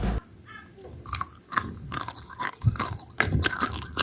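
Close-up crunching as a crispy fried potato snack is bitten and chewed, a series of sharp crackly bites with quiet gaps between.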